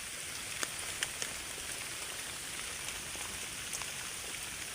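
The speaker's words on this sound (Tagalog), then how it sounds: "Malakas ang ulan ah." Heavy rain from Typhoon Ramil in the Philippines pours steadily in a dense hiss, with a few louder drops tapping close by.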